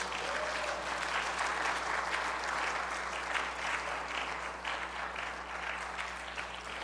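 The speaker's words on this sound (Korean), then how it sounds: "박수 부탁드립니다" Applause from an audience at a church women's mission convention in a hall, a dense, steady wash of clapping that holds for the whole stretch, even and moderately loud.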